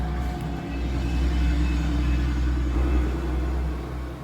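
A DeLorean car's engine idles outside an open window, giving a steady deep low rumble that holds at a moderate distance, with no voices.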